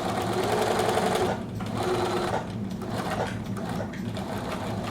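A sewing machine stitches bias tape trim onto a parka hood in close, loud bursts with a fast steady whir. The speed dips and resumes a couple of times without a break.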